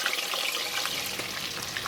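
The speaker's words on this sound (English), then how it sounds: "So the fish is frying" Small whiting fish with garlic sizzles and crackles steadily in hot oil in a pan, a dense continuous frying hiss heard up close.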